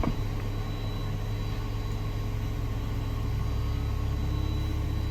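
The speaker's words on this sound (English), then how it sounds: "Red engine spooling." Learjet 35A jet engine spooling up in a flight simulator game, a steady low rumbling drone with a broadband hiss that holds constant and fairly loud throughout, with no voices.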